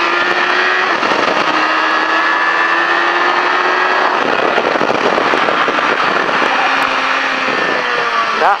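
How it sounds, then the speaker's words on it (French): A race motorcycle at a Duo Run Stage event in La Ferté Gaucher launches hard and accelerates, its loud, harsh engine roaring close and continuously, rising through revs with crackling exhaust pops. "je déclenche, filet de gaz tout de suite et je relève la moto, j'accélère"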